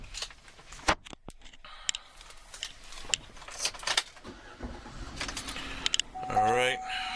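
Keys jingle and small clicks come from inside a 2008 Chevrolet Avalanche LTZ 4WD pickup, then the engine cranks and fires near the end with a rising whir, all up close.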